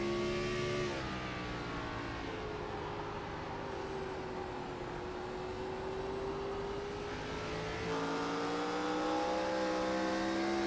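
NASCAR-style stock cars in a GNS Series race at Richmond Raceway hum and whine steadily, pitch sliding down and back up as they slow and power through a corner, loud and continuous.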